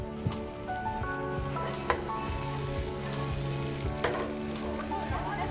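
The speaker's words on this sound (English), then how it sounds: "Alright, so that's sauteing away" Onions sauteing in a pan give off a steady, moderate sizzle, with a few brighter crackles and spatters, over a faint tonal background.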